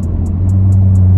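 Chevrolet Corvette Stingray with an apparently stock exhaust, engine idling and revving in a steady, loud low rumble, with a faint pulsing tick repeating in the background.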